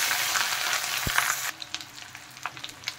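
Onion paste dropped into hot oil with cinnamon, cloves and cardamom sizzles loudly at first, then settles into quieter crackles and small pops after a brief thump, with no voices.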